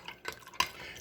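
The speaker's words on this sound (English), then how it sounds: "I'm going to give this a good stirring." A spoon stirs a cornstarch-thickened sauce for green bean chicken stir-fry in a bowl, making a few soft scraping clinks with one sharper knock near the middle, heard alone.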